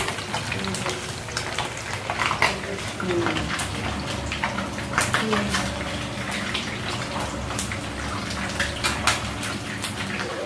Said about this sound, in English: The turkey is frying.